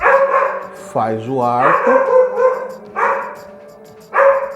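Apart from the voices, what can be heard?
dog barking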